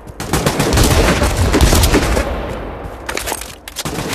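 A grenade blast in the shooter game Pavlov, set in a competitive Shack match: a loud, close burst of noise that rumbles for a couple of seconds, then breaks into scattered crackling impacts.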